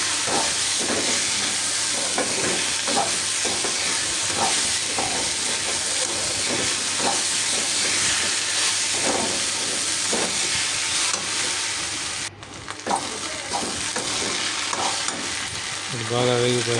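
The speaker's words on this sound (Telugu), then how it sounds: "బెండకాయలు కానీ బాగా మాడే వరకు లైట్గా ఫ్రై చేస్తూనే ఉండండి" Okra (bhindi) frying in a pan, a continuous loud oily sizzle and hiss with occasional scraping stirs, holding steady for the whole stretch apart from one brief break.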